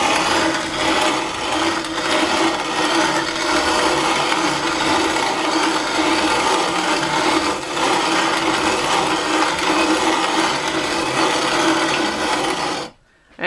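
A hand-cranked Country Living grain mill grinds wheat with a loud, steady, gritty rasp that runs continuously up close, then stops abruptly at the end.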